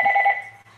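A telephone rings with a short, close trilling tone that warbles briefly and then fades away.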